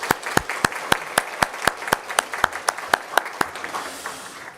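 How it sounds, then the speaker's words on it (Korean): A church congregation at Sunday worship applauds to welcome a missionary, sharp, regular claps in a loud, even rhythm, about three per second, before fading into a softer patter at the end. "우리 박수로 환영하겠습니다"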